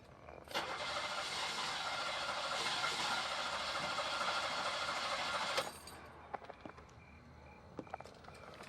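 A car engine cranks over and over without catching, a steady grinding churn lasting about five seconds before it cuts off, followed by a few faint knocks and clicks in a quiet interior.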